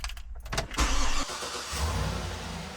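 A Cadillac engine cranks with a short starter whir, catches, and settles into a steady idle after a repair, close up and alone without talk.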